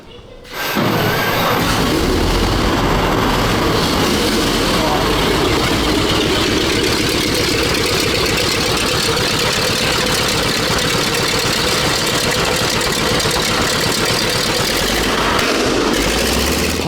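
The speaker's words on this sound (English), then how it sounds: "That backfire was like a gun going off." Radial petrol engine of a WWII Grant tank running continuously, a loud, rough, dense rumble with uneven knocking pulses, close and sustained after a quick start.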